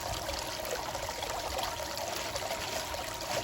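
Water running steadily through a bag of gold-prospecting paydirt as it is rinsed, a constant close trickling and splashing stream with no talking.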